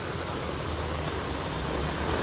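Heavy rain pours down in Pasodara village during a storm with thunder and lightning, a loud, dense, unbroken roar of rainfall filling the air with no distinct thunder crack standing out.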